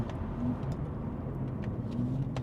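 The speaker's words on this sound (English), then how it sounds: "If we open the valve, so we're still in efficient mode, you do hear the car come to life." Steady, low exhaust drone from a BMW G8X M3/M4 with a DCE mid-pipe and the valve open, heard from inside the car while cruising in efficient mode, even and continuous with no talk.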